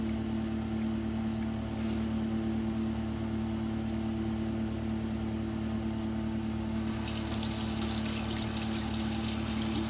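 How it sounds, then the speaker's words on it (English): Tap water runs steadily for rinsing a razor during shaving, a continuous hiss with a low hum beneath, growing brighter and splashier in the last few seconds. "make sure you've got good water pressure to rinse out your razors"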